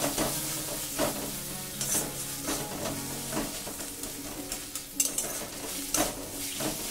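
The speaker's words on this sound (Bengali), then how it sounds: "এটাও ভালোভাবে কষিয়ে নেব পেঁয়াজের সাথে" A spatula scrapes and stirs ginger garlic paste with onions in a pan over a soft, continuous sizzle, with irregular clinks of metal against the pan.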